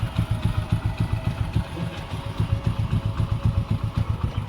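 A motorbike engine idles after an engine flush treatment has been added to the oil, ticking over in a steady, quick rhythmic thump with light mechanical clatter, close and alone.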